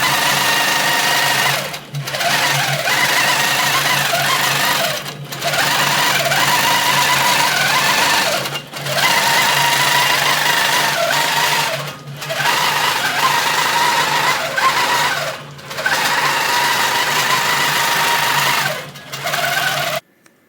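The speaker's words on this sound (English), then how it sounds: "I will show the long arm stitching" A longarm quilting machine stitches a charm-pack quilt top in a loud, continuous mechanical hum with a rapid needle rhythm, pausing briefly every few seconds before resuming, close up and with no speech.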